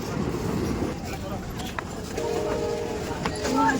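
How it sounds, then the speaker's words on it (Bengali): A passenger train rumbles into a railway station in Bangladesh, a steady low mechanical roar with a brief tonal squeal near the end, heard under nearby people talking. "ফাইনালি আমাদের ট্রেন চলে এসেছে"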